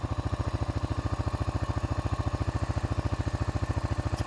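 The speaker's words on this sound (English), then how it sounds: "If I stopped talking for a minute, you'd be able to hear it. That engine's as quiet as can be." An ATV engine idles smoothly at close range, a quiet, even rapid putter with a very regular pulse and no ticks or knocks, heard alone without talk.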